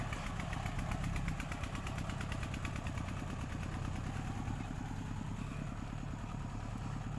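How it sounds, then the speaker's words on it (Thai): A small farm tractor engine runs steadily at a fast, even chug during a cassava harvest, loud and close, with no pauses throughout. "มันใช้รถไถเล็กครับ"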